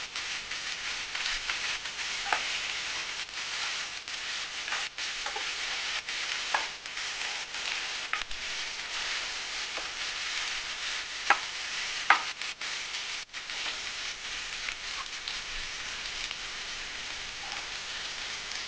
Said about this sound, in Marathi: वांगी आता आपल्याला तेलामध्ये भाजून द्यायची आहे।